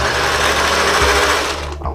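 Sewing machine stitching in reverse on an old t-shirt being made into a durag, a loud, close, steady mechanical whir that slows briefly near the end.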